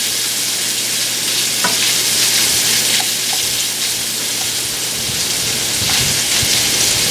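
Cabbage, noodles and smoked sausage fry in a pan while being stirred, making a loud, continuous sizzle with scattered scraping clicks, and no one speaks.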